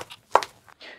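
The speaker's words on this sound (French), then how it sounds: "Soudain, un bruit de talons hauts martèle le sol." High-heeled shoes strike a hard floor in a theatre backstage corridor, a few sharp close clacks with one loud impact in the middle and a softer scuff toward the end, no voices.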